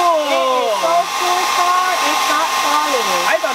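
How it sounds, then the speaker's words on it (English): A handheld hair dryer is switched on and held up so its stream of air blows toward the ceiling. It gives a loud, close, continuous whirring roar with a whine layered over the rush of air. "hold this hairdryer up so that the stream of air is blowing towards the ceiling"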